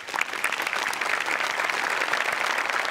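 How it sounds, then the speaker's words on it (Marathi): A studio audience at a Marathi comedy show breaks into loud, sustained applause, dense clapping from many hands holding steady for a few seconds. "तुमच्या दोघांसाठी टाळ्या व्हायला पाहिजे"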